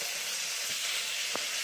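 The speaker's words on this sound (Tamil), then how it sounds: "அதே கடாயில் கொஞ்சோண்டு எண்ணெய் ஊற்றி அதில் ஒரு கைப்பிடி அளவுக்கு புதினா" A handful of mint sizzles in a little hot oil in a kadai, a steady close hiss with one or two faint stirring touches.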